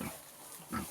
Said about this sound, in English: when pigs lay down to nurse their piglets, they sing to them.